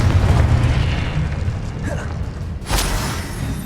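Blasting spell explosions and mechanical clatter from a Hogwarts Legacy battle, a dense rumbling game mix with a sharp burst near the end standing out above the continuous low booms.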